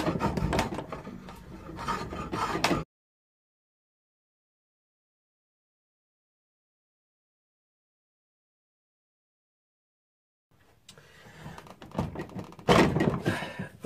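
Steel drawknife shaving the rounded wooden neck of a cigar box resonator ukulele, heard as close rasping, rubbing strokes in two bursts separated by a long stretch of silence.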